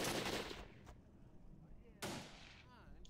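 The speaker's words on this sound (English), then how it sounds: "is that snipers that are attacking me?" Sniper gunfire in the Warfare: Oriental Conflict mod for the video game SW, with two sharp, loud shots about two seconds apart. Each crack rings out and fades over a second, with quiet ambience between them.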